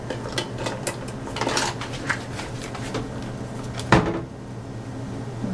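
A spoon fetched from a kitchen drawer while cooking shrimp and spinach penne Alfredo: cutlery rattles and clinks in quick bursts, then a drawer slides and shuts with a firm knock, all close by.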